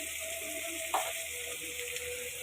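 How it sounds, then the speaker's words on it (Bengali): Onions frying in oil in a frying pan for a fish do-piyaza, a steady soft sizzle with a brief louder crackle near the start, close and continuous. "পেঁয়াজটা দিয়ে এটাকে আমি একটু ভাজতে থাকবো"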